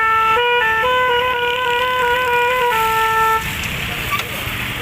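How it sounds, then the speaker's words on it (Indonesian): A bus-style multi-tone horn mounted on a motorcycle plays a loud stepped melodic sequence of sustained tones for about three and a half seconds, then cuts off, leaving outdoor background noise. "klaksonnya gimana itu suaranya?"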